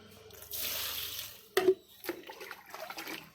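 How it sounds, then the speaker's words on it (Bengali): Water is poured into a container holding vegetable peels and neem leaves, giving a soft gushing pour followed by a few splashing, sloshing bursts and small drips, close and moderately quiet. "একটু বেশি জল দিতে হবে সবজিটা যাতে পুরো জলের মধ্যে ডুবে যায় এইভাবে"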